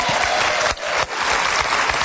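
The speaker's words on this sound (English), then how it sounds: "Oh, you don't have to clap." Studio audience applauding on a television talk show set, a dense, steady wash of clapping that fills the whole stretch with two brief dips.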